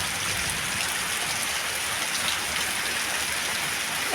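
Heavy, steady rain pours down in a continuous dense hiss, unbroken and loud throughout, with no voices.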